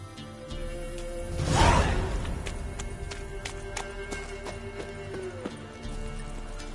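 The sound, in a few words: horse galloping in video game The Witcher 3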